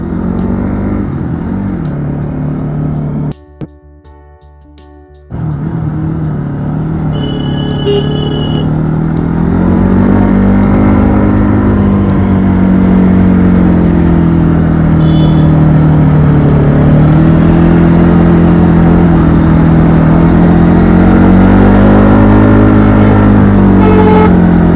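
A car climbs a hill-station road with a loud, steady engine drone heard from inside, briefly cutting out, then building in pitch and strength as it accelerates to overtake.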